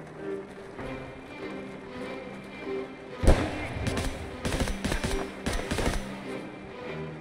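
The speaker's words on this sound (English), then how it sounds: "He just shot me and walked back" Gunfire in Escape from Tarkov: a sharp close shot followed by several rapid bursts of automatic fire, loud over low ambient game noise, with no voices during the shooting.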